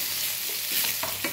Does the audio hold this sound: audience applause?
no